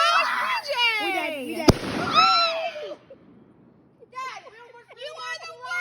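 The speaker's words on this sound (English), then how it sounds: "The mortars are the big ones." Fourth of July firework mortars fired by a family outdoors, with a sharp loud burst amid excited shouting and children's voices, followed by more talk.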